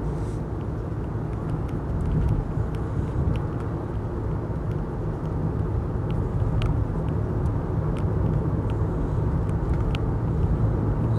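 A Jaguar XJ8 Sovereign 4.0 long-wheelbase saloon cruising at about 50 mph, a smooth continuous low road rumble and muted engine hum heard from inside the cabin, steady throughout with no talking.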